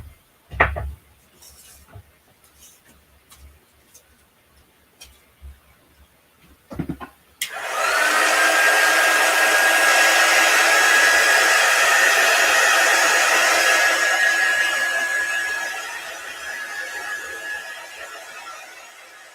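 A hair dryer blasts on after several seconds of faint clicks and handling, roaring steadily with a thin whine while drying a chalk paint transfer, then easing slightly lower toward the end.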